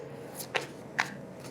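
Tarot deck being shuffled by hand during a card reading, two short crisp riffling bursts close to the microphone over a quiet background.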